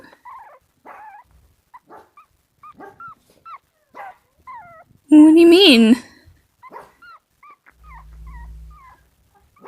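A puppy gives a string of short, high whimpers and yips, then one louder drawn-out whine, in an audio roleplay about getting a dog for Christmas; a low voice speaks briefly near the end.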